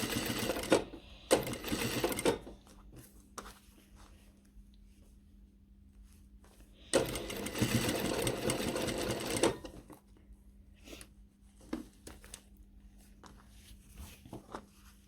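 A sewing machine stitches fabric for a garment seam in loud bursts of rapid mechanical whirring, separated by quieter pauses with a faint steady hum and small handling clicks.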